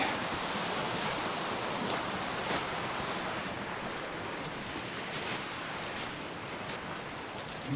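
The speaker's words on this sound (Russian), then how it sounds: "Шумный ручей." Steady, broadband rushing water noise from a noisy stream in a snowy forest, continuous and fairly loud throughout with no voices.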